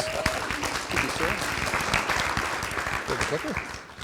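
An audience at a facility advisory committee meeting applauds a building and grounds director, a steady wash of many hands clapping that holds fairly loud for about four seconds before thinning slightly at the end.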